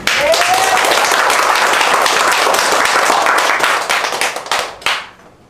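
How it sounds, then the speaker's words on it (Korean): A church congregation clapping their hands together loudly and steadily for several seconds during a worship service, dense and close, then trailing off with a few last claps. "우리 박수 한번 쳐볼까요?"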